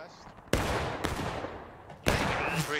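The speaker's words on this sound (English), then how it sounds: "I see gunshots." Musket gunfire from the Civil War video game War of Rights: a few sharp, loud reports, the strongest near the start and another after a couple of seconds, each with a rolling tail over a steady battle din, with faint voices in the background.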